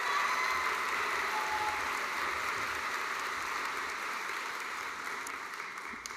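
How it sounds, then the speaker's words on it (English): Audience applause for graduates at a Melbourne Polytechnic evening graduation ceremony, a steady, full round of clapping from a large crowd that carries through the whole stretch and tapers slightly toward the end. "A big round of applause for all of those graduates"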